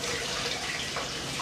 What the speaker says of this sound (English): So just turning on the tap, let it run just for a little bit, and you're wanting warm water.